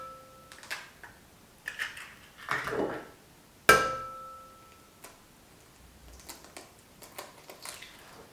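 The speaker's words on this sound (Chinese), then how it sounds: "首先，盆中打入2颗鸡蛋" Two eggs cracked into a bowl for chive pocket dough, heard as sharp close taps on the bowl rim followed by light wet plops and faint clinks, with quiet kitchen ambience between.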